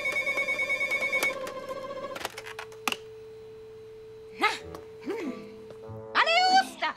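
A telephone rings in a French cartoon, a steady bell-like trill for about two seconds before cutting off, followed by musical sound effects and brief character voices.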